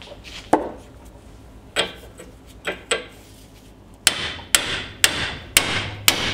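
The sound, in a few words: hammer striking a tool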